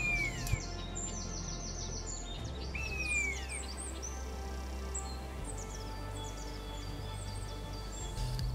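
Common buzzard calling outdoors in a Flanders springtime landscape, with descending mewing calls mixed among other birdsong over a steady low rumble of background noise.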